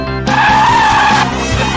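A car's eco-friendly tyres with very little grip squeal loudly in a sustained skid, a harsh high screech over engine rumble, close and continuous.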